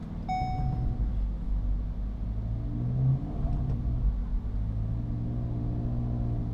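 A 2019 VW Golf R with a Stage 2 tune runs a dyno pull in race mode, its engine droning steadily with a deep, loud rumble that swells slightly partway through, close and continuous without talk.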